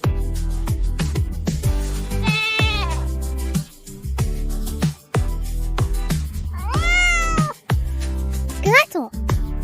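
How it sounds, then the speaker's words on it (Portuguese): A cat meows repeatedly, several loud close rising-and-falling calls spaced through the clip, mixed with background music from a children's farm-animal sound lesson. "Gato."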